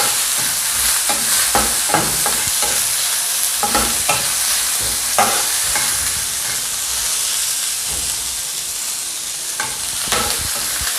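Onions fry to a brown colour in a hot pan for a bagada chingudi prawn curry, a loud constant sizzle broken by repeated scraping stirs at an uneven rhythm, with no talking.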